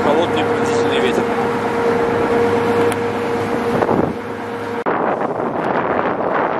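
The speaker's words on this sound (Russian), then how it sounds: "Дует холодный пронзительный ветер." Cold, piercing wind roars steadily across a boat heading out onto Lake Ladoga at night, loud and buffeting the microphone, with an engine-like hum underneath and a voice speaking briefly over it.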